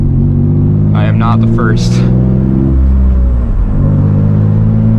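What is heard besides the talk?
Nissan 350z engine and wind noise while driving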